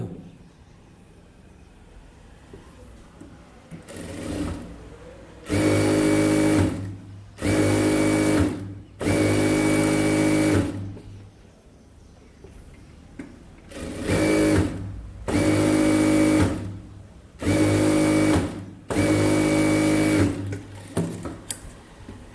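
A sewing machine stitches a 36-inch blouse in loud, close bursts of rapid whirring, about seven runs of one to two seconds separated by short pauses, with a quiet stretch near the midpoint.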